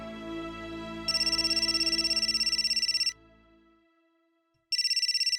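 A mobile phone rings in a Pakistani drama scene, giving a rapid pulsing electronic trill for about two seconds over fading background music, falling silent briefly, then starting again.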